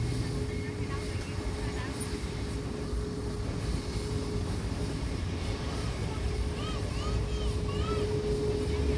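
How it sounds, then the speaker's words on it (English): A JetBlue Airbus A321 in mint livery lines up on runway 8 at San Juan airport, a steady low engine rumble with a faint tonal whine running throughout under wind, and a voice talking over it. "Now comes up JetBlue flight 1604 heading to JFK on an A321 in the new mint livery."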